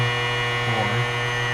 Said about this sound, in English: fuel pump on